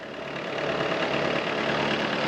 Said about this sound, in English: Let's go ahead and start her up, turn my decks on.